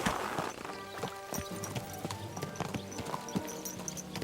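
Horse hooves clip-clop at a steady riding pace in the video game Kingdom Come Deliverance II, mixed with tonal game music and ambient sound, moderately close.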